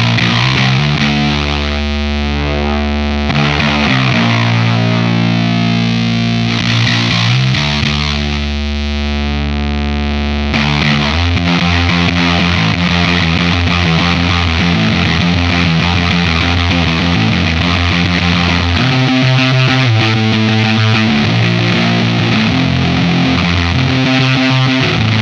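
Heavily distorted electric bass through a Lantern Manufacturing Sycamore pedal with the mid-range boosted, playing loud, aggressive sustained notes and chords that shift over about twenty-five seconds, with no talking.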